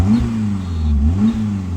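A car engine idles and is revved twice in a slow rise and fall while a boost gauge is checked for a fault. The sound is a close, steady mid-pitched drone with no talking.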